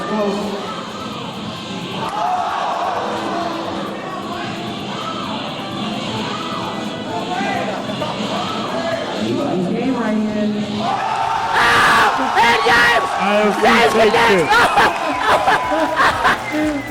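Commentators talk over an excited crowd at an Evo Marvel vs Capcom 2 tournament that erupts into loud cheering and yelling partway through, with sharp bursts of noise continuing to the end.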